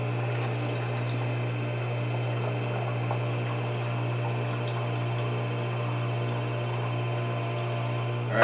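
Juice pours steadily from a Norwalk juicer press running at full force, a continuous liquid stream over a constant low motor hum that holds evenly throughout.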